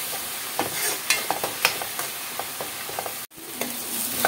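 Masala fries in oil in a pan for a mushroom curry, giving a steady bright sizzle with scattered pops and crackles and a brief dip partway through.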